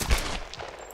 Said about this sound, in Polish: I teraz strzał w plecy.